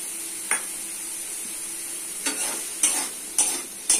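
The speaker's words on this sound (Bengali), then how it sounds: "সয়াবিন লাল করে দিচ্ছি হলুদ, লবণ," Soybean chunks fry with turmeric and salt in a pan over a constant soft sizzle, with several sharp scraping stirs at irregular intervals, clustering toward the end.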